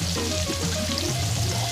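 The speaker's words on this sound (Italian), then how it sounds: "a questo punto procediamo con l'aggiunta dei funghi porcini" Porcini mushrooms go into a pan of hot soffritto, producing a close, steady crackling sizzle that runs through the whole moment with no talk.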